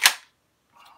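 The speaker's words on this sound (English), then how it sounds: "So when you're doing a tactical reload, so I'm just going to drop the mag here." A KWA MP7 gas blowback SMG magazine drops out with one sharp, close clack, followed after a short silence by a faint, brief rattle.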